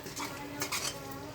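A spoon stirring fish pulusu curry masala in a pan, giving quick close scrapes and metallic clinks against the pan over a soft sizzle.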